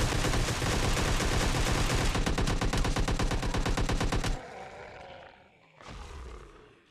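Rapid automatic gunfire from PUBG Mobile, a loud dense burst of machine-gun shots lasting several seconds, then cutting off before a shorter roaring blast near the end.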